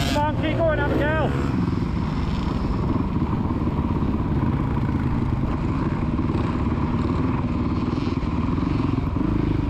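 A child's motocross bike on the Astley MX main track revs and drones loudly and continuously at close range, with a brief rising whine at the start and an adult shouting encouragement over it.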